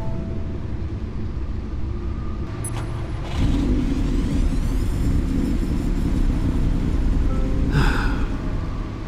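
A car engine of over 600 horsepower in Batman: The Enemy Within rumbles at idle and then swells to a louder, deeper growl, steady and close, with a brief higher whine near the end.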